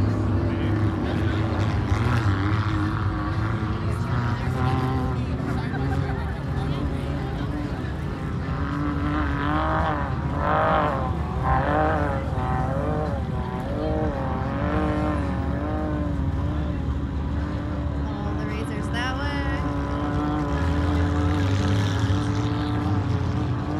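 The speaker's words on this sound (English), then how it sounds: "Everybody comes with all of their razors and off-road vehicles." Off-road vehicles and razors run at Comp Hill in the Dumont Dunes on New Year's Day, a steady droning engine roar with rising and falling revs from several machines, some nearer, continuous throughout with faint voices underneath.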